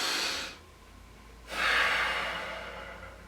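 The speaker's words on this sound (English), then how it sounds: "At the end of it, a deep breath in." A deep inhale ends a Kundalini yoga chanting meditation: a short breath, a pause, then a longer, louder breath taken in close up, alone without talk.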